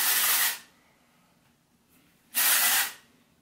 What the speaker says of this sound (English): It's a texturizing hairspray.